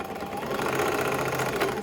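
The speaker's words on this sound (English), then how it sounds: "I'm using my home sewing machine right now because this is a do-it-yourself video." A home sewing machine stitching fabric, a lightweight thread joining shoulder seams of a crop top, running as a steady, fast mechanical whir and rapid needle chatter that holds even and fairly close throughout.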